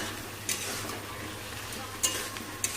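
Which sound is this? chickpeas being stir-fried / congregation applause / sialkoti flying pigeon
chickpeas being stir-fried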